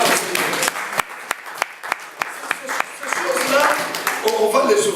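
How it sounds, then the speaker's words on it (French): A church congregation applauding and cheering for Jesus, a burst of sharp claps that thickens into sustained applause with voices calling out over it. "Nous pouvons acclamer Jésus"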